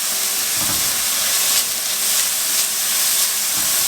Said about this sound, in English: I've got about a tablespoon of garlic. We're just going to cook these for about 30 seconds